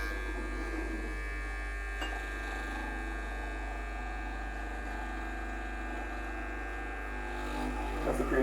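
Breville Dual Boiler espresso machine pumping during pre-infusion, a steady low buzzing hum with a faint mechanical whine, continuous and close, a brief click partway through.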